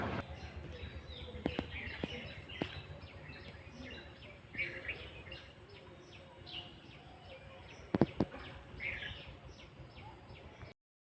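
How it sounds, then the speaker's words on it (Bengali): Birds calling outside in the morning, faint scattered chirps and tweets at a distance over a quiet, low background hum, with a couple of sharp knocks near the end. "আমার পাখির ডাকটা খুব ভালো লাগে"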